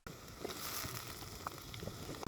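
Onions and tomato fry in a pan during home cooking, a steady soft sizzle running throughout with a few brief clicks and scrapes over it, close and moderately loud.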